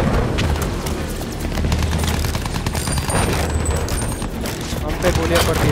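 Dense, continuous bursts of rapid gunfire and booms in the video game Battlefield 1 crowd the clip, loud and close, with no pauses between volleys.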